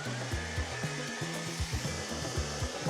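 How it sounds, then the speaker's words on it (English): A hair dryer set to hot and high runs steadily, a constant loud whoosh with a rhythmic low fluttering hum, used to loosen peel-and-stick wallpaper from a wall. "the hairdryer method's working really well. It's on hot and high."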